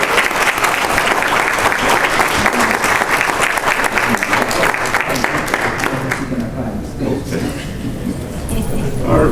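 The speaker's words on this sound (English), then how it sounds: "let's give a big round of applause for our host today" An audience at a child welfare braintrust gathering applauds the host with loud, sustained clapping that thins out partway through and then swells again, with some voices audible underneath.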